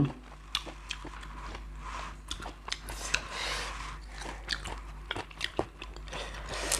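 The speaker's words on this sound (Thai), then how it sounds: "ต้องชิ้นเล็กๆ ชิ้นใหญ่มันเคี้ยวลำบาก" Chewing of a Thai raw beef dish, jue nuea, with close, irregular wet crunches and bites repeating over several seconds under steady low background hum, no talking.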